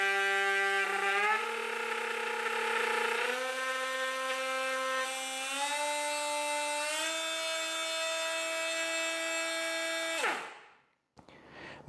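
A Parkside Performance 12V oscillating multi tool (PPMFWA 12) runs unloaded with a steady, close, high-pitched whine that climbs in steps as it spins up to full oscillation, then cuts off near the end.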